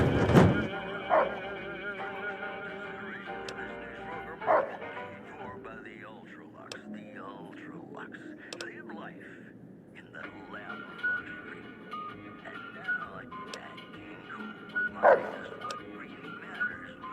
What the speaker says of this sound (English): Hey, isn't that the king's dog?